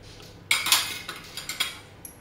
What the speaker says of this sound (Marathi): गॅसवर बघा कढई ठेवलेली आहे